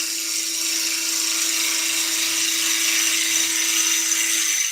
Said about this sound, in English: Let's start with a 1/4 inch or 6mm bowl gouge, and I'm just going to cut the edge away.